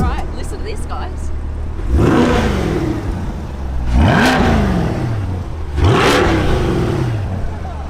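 Brand-new Chevy Corvette Stingray engine revving hard in three loud, close bursts, each rising and falling sharply, with idle rumble between them.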